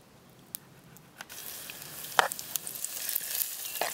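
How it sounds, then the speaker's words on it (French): Chorizo browning in a frying pan gives a soft, steady sizzle that builds gradually, with a few sharp pops and crackles breaking through, heard close up with no talking. "Allez, je fais revenir mon chorizo"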